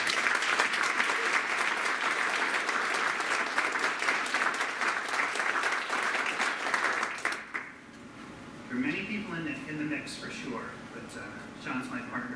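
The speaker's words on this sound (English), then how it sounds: "give him a roaring round of applause" A roaring round of applause for Sean at an education symposium fills the room with dense, steady clapping for about seven seconds, then cuts off abruptly, leaving a speaking voice.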